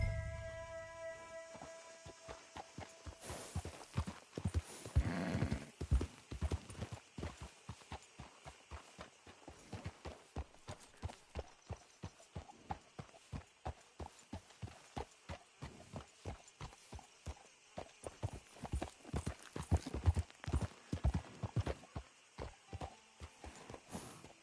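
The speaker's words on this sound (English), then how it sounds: "Man on my wages could never afford a horse like this." Horse hooves clip-clop at a steady walking pace in the western video game Red Dead Redemption 2, a long run of clear, close hoofbeats over quiet ambient background.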